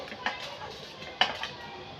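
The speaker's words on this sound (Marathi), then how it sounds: "तेजपत्ता पण आपण दोघं झाऱ्याच्या साह्याने असा उलटपालट करून छान भाजून घेते" Bay leaves being roasted in a little oil and turned with a slotted spoon in a pan, giving a few light metallic scrapes and clinks, with one sharper knock partway through, close and fairly quiet.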